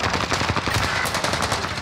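Rapid bursts of Call of Duty: Warzone gunfire rattle in quick succession, loud and close, with several shots packed into a short span.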